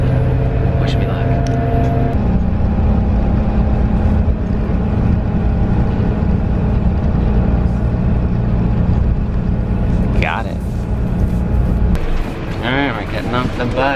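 A bus rumbles along with a loud, steady low engine drone from inside the cabin, a hissing burst near the end as it stops, while a voice speaks briefly.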